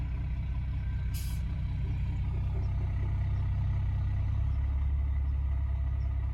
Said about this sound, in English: Truck is back again.